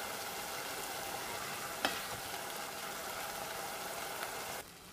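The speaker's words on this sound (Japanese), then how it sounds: "ご飯を入れた後、沸騰したら10分間このまま煮ます。" Rice simmering in a pot of green asparagus peel potage soup, a steady soft bubbling hiss with a couple of faint clicks before it cuts off.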